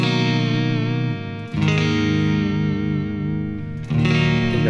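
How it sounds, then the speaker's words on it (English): Electric guitar played through a Fender headphone amp on a Twin Reverb amp model, sustained chords ringing with a light reverb tail and two brief changes where the chord shifts. "that's like a twin reverb sound."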